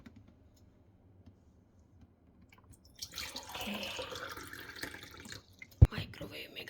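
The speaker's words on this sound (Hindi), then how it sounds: "इसमें लेती हूँ पानी" Water pours steadily into a glass for a few seconds, close by and moderately loud, ending with a sharp knock.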